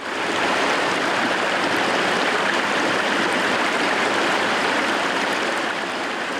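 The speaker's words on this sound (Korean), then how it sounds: "계절마다 달라지는 계곡의 소리" A mountain stream running through Andeok Valley on Jeju, a dense, even rush of flowing water close by, steady from start to finish with no voices.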